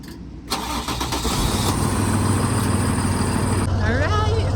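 A diesel engine on a large 26-foot moving truck cranks and catches, settling into a loud, steady idle up close, with a brief rising whine near the end.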